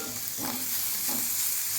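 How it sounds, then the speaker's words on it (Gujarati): Tomato going into onions sautéing in a pan for urad dal: a continuous moderate sizzle with two short stirring scrapes, no talking. "હવે આપણે ટમેટું નાખીશું"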